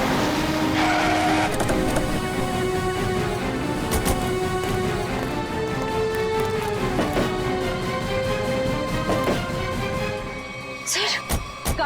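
A car engine running and pulling away, a steady motor drone with shifting pitch and a few sharp clicks and knocks, fading near the end, with dramatic background music layered over it.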